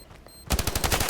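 Rapid burst of AK rifle automatic fire in a first-person shooter game, roughly a dozen sharp, evenly spaced shots starting abruptly after a brief quiet moment, loud and close.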